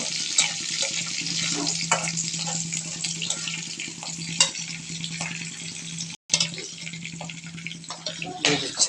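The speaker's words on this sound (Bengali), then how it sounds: "কাঁচামরিচ দিয়ে নাড়াচাড়া করে নিল" Fenugreek greens with green chilies are stirred in a frying pan, a steady hissing sizzle with intermittent scraping strokes and a low hum beneath, briefly interrupted near the end.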